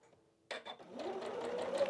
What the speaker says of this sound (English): this is just straight line stitching